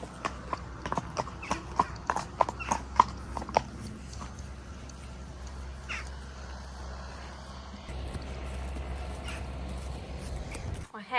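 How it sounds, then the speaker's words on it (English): Hooves of a Welsh pony clip-clopping in a steady walking rhythm while ridden, with light clear knocks at close range. Crows caw in the background, and the hoofbeats give way to low rumbling noise. "But me and Rex have just got back from our hack."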